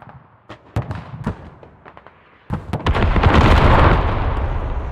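Artillery shells in the game Squad land in a string of sharp, booming blasts, a few separate hits followed by a rolling, heavy barrage that swells and sustains near the end.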